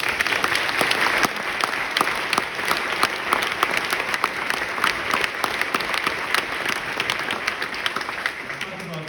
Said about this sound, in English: If you would do me the honor and give them a round of applause.